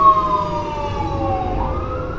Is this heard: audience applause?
no